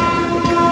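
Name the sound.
Puri Visakhapatnam passenger express train running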